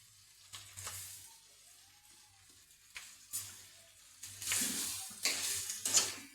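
Chopped cabbage tossed into a hot frying pan with coconut and peanuts and stir-fried, bursts of sizzling and scraping that swell louder as the vegetables hit the oil, close and alone.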